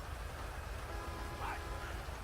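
Steady rain in GTA V, a constant hiss of drops falling on the street and nearby surfaces, with a low rumble underneath and no other sound standing out.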